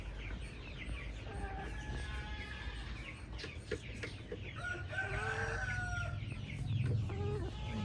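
Laying hens on a farm cluck and call in short repeated bursts, some near and some farther off, over a low steady background rumble.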